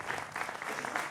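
A studio audience at a Hindi TV political debate applauds to welcome a Congress party spokesperson onto the panel, a short burst of steady, moderately loud clapping with no voices over it.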